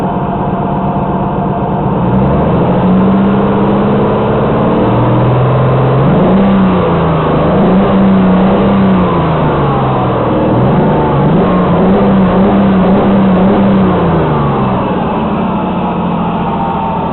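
A Kia Sorento engine, just fitted with new spark plugs, revs repeatedly. Loud, close engine tone rises and falls in several waves over a steady running idle, with no voices.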